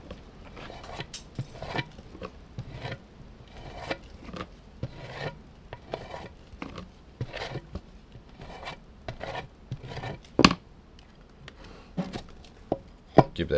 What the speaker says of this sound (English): Scrape some of this off here.